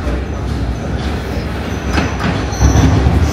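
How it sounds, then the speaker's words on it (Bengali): A Paris metro train arriving at a station, loud rumbling wheels and rattling carriages with squealing and clacking, growing heavier toward the end. "সো আমাদের ট্রেন ঢুকে গেছে"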